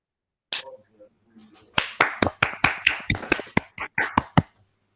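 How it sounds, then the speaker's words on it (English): Participants in an online academic meeting clapping for a speaker over their microphones, a sparse run of separate sharp claps from a few people, close and uneven, after a short quiet start. "give a round of applause for Christian"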